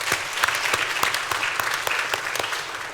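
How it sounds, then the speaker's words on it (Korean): A church congregation applauds during a Sunday service, steady clapping with distinct sharp hand claps standing out close by over a dense patter that fades slightly at the end. "박수로 축복하겠습니다."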